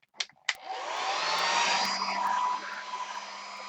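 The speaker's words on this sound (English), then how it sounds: "Easy with the hair dryer." A hair dryer on its cool setting blows steadily with a loud whooshing roar after a couple of short clicks, close by and continuous.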